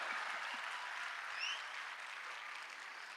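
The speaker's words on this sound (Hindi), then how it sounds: "मेरे लिए तालियां इसलिए बजाइए" Audience clapping at a Hindi comedy and satire poetry show in Delhi, a fairly faint, even spread of applause from a crowd, heard from a distance with no voices over it.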